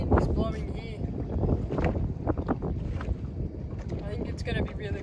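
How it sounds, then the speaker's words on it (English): Gusty wind buffets the microphone on a boat during a windy fishing outing in Botany Bay, producing loud, uneven rumbling bursts throughout with occasional faint voices underneath. "Very hard because the wind is blowing here."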